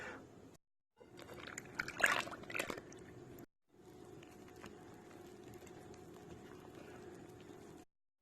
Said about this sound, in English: always put your liquid into your dries